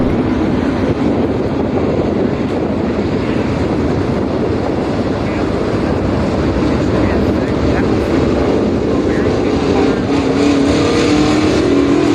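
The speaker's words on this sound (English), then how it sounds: "First time on the track for Brandon here at Attica. Starting to qualify" A race car drives its first qualifying laps at Attica Raceway Park, a loud, continuous engine roar that fills the whole stretch and holds steady throughout.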